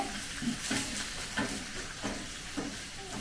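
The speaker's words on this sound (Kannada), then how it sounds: "ಇಷ್ಟು ಡೀಪ್ ಫ್ರೈ ಆಗೋವರೆಗೂ ಚೆನ್ನಾಗಿ ಈರುಳ್ಳಿನ ಫ್ರೈ ಮಾಡಿ" Onions deep frying in a pan for chicken peanut masala, a soft steady sizzle with regular stirring scrapes every half second or so, close and quiet with no talk.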